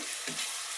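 Chicken meat going into hot spice paste for a chicken and potato curry, giving a brief, steady close sizzle of frying with a slight stir-like rustle partway through, no voices.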